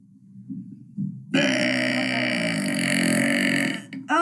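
A long, loud human burp starts abruptly after a few faint low grunts and holds steady for over two seconds, then breaks off, with a short final burst at the end.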